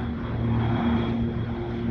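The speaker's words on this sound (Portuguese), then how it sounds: "gravando esse pouso aí pra vocês" A propeller airplane lands at Sorocaba airport, its engine droning steadily and loudly throughout, a continuous hum with faint hiss and no voices.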